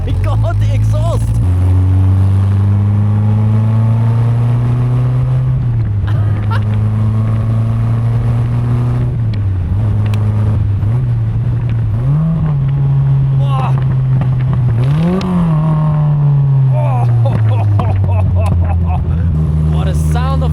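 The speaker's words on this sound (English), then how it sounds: "I'm sure this is probably the best sounding 4-cylinder I have heard ever" A 1968 Ginetta G4's four-cylinder exhaust drones loudly while driving, its pitch rising and dipping with gear changes, wind buffeting the microphone.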